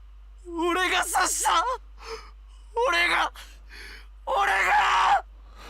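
A character screaming in the video game Steins Gate 0, heard as three loud, anguished vocal bursts with quiet gaps between them, near and alone.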